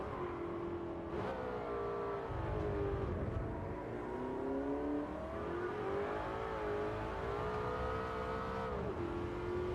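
A race car engine in Gran Turismo 7 revs high through the gears, each pitch climbing in smooth sweeps before dropping at the shifts, loud and continuous, with faint tyre noise beneath.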